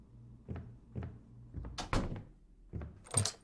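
A locked door in an RPG Maker horror game rattles and thumps in a series of short knocks and jolts, several close, sharp hits arriving in an uneven rhythm, with no voices.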